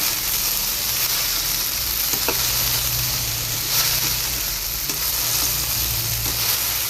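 Okra for a stir-fry sautéing in a pan, a loud, constant sizzle with occasional stirring scrapes, close and steady with no talk.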